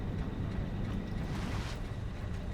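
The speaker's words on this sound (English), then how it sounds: "water's flowing now" Water flows in the Satisfactory video game's coal power plant piping, a loud, steady rushing wash with no pauses and no voice.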